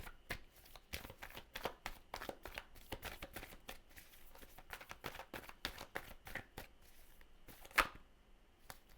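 Tarot cards riffle and slap in a rapid, uneven series of crisp flicks, close and quiet, with one louder snap near the end.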